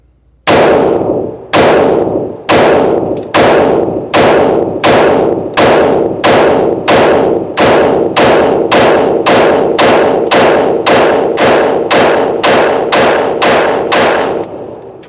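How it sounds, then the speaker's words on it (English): Rapid pistol fire from a CZ Shadow 2 Compact at a range: about twenty loud, sharp gunshots in a fast steady string, each with a ringing decay, close to the mic and with no talk. "We're going to drop it. And we're going to shoot it."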